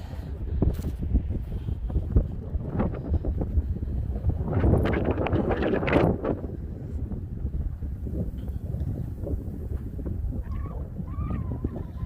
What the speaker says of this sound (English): There's always a lot of wind out here because we really don't have a lot of trees.